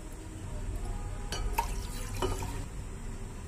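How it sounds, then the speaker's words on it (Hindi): Two glasses of water are poured into an empty cooking pot while making suji rasgulla, a quiet splashing and dribbling pour with a few louder splashes and no talk. "हमने दूसरा बर्तन रखा है और इसमें 2 ग्लास पानी ऐड करेंगे।"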